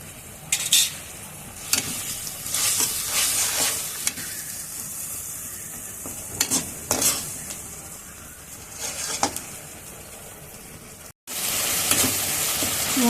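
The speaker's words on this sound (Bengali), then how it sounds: "টমেটোটা দিয়ে একটু কষাবো" Spices with tomato, salt and turmeric being sautéed in a pan for a vegetarian chhana bora curry, heard as a steady close sizzle with repeated scraping stirs throughout and a brief cut near the end.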